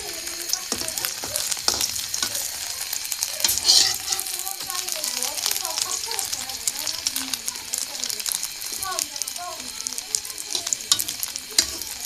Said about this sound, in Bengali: ডিম ভাজানো শেষ, এখানে 3টা ভাজছি।